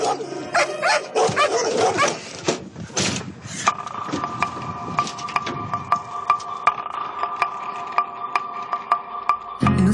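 Detection dogs bark and yip repeatedly at a canine training centre, loud and close, with excited overlapping barks that settle into sharp single yaps under a steady background tone.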